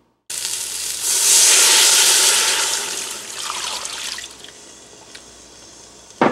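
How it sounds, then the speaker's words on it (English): Chicken broth pours from a box into a pot of spicy chicken curry, a loud steady gush of liquid that swells and then thins out before stopping, with a brief knock at the very end. "Now we are going to add 3 cups of chicken broth."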